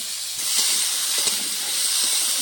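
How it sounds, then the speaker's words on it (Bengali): Potato pieces frying in hot oil, turmeric and salt added, a continuous loud close sizzling hiss with faint stirring clicks beneath, no speech. "আলুটা ভাজা হচ্ছে"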